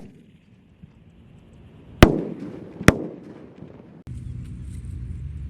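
Roman candle fireworks fire two sharp, loud pops about a second apart outdoors, each with a brief fizzing tail, followed by a steady low rumble.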